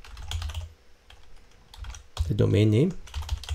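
Keys clicking on a computer keyboard in short bursts of typing, close and crisp, alternating with someone speaking over it.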